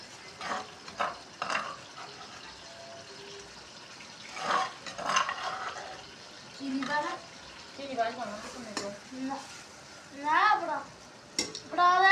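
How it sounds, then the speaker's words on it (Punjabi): Pan sizzling and frying with intermittent stirring scrapes, close by, while people talk over it. "ਇਸੇ ਪਾਣੀ 'ਚ ਭੁੱਜ ਜਾਣਾ ਇਹਨਾਂ ਦਾ ਮਟਰਾਂ ਨੇ"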